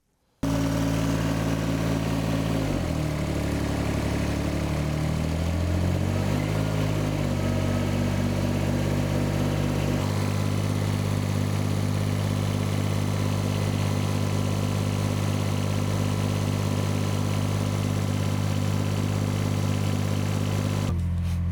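Tractor engine with a shut-off solenoid starting and running, then settling into a steady, loud idle with a throbbing low rumble for the rest of the stretch, alone without talk.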